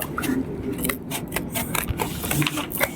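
Scissors snipping through paper or card for a children's school project at home, a run of quick crisp cuts close by, with background household noise and occasional children's voices.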